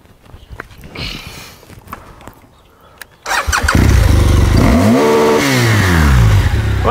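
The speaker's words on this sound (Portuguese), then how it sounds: "Essa é sua moto? É minha moto." A motorcycle engine starts suddenly partway through, after a quieter opening with scattered footsteps. It then runs loudly and close by, its pitch rising and falling as it is revved.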